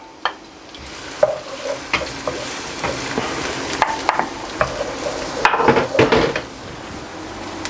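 Chopped onion, one large onion, sautéing in three tablespoons of hot ghee, with close sizzling under clattering stirs and pan knocks that build toward the end, with no talking.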